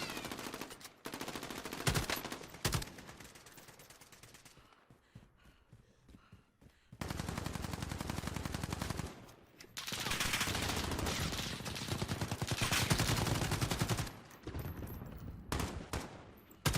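Automatic gunfire in the Call of Duty Warzone video game comes as long, loud sustained bursts separated by short quieter gaps, with intense fire across most of the stretch.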